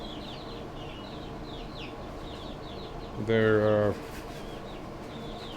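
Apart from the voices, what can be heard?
chickens clucking in a chicken tractor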